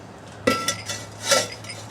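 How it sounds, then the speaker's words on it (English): A cast iron skillet set down on the grate of a Weber charcoal grill, giving two short metallic clanks about a second apart, close by with no talk. "skillet on, I like to use cast iron."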